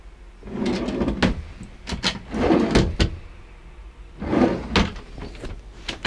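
Kitchen drawers and cupboards in a 2010 McLouis MC4 63 camper van being opened and shut, a series of sliding rumbles and sharp clacks in uneven bursts, close by, with no talk.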